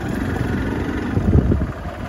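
A new motorcycle's engine idles close by in steady low rumbling pulses, with a brief swell of throttle partway through before settling back to a smooth idle.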